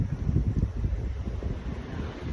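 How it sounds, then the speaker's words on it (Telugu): Waves on a seashore rumble in a low, steady wash, with wind buffeting the microphone over a short stretch and no speech. "ఈ సౌండ్, ఈ అలలు ఇవన్నీ వింటూ"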